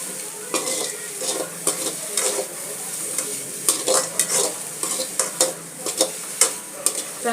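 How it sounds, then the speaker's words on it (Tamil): Onions sautéing in a pan with a busy, steady sizzle, broken by frequent scraping stirs of a spoon against the metal, close and fairly loud, with no one talking. "வெங்காயம் வதங்கினா கொஞ்சம் உப்பு போட்டு வதக்கணும்."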